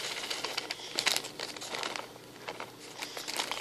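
A plastic bag is handled and crinkled close by while herbs or ingredients are moved into jars, giving a soft, continuous rustle with a few sharper crackles and no talking.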